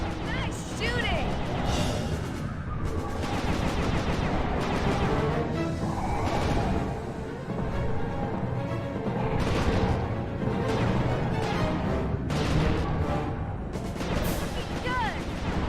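Gunfire and blasts in the video game Sly 2, dense crashing shots and explosions over continuous loud action noise and music, with voices speaking throughout.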